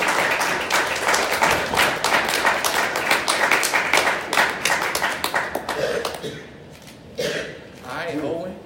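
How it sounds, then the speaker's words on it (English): A crowd at an aldermanic candidate meet-and-greet applauds with dense, steady clapping that fades near the end, with a few scattered claps trailing off. "let's give another round of applause for Mr. Piemonte"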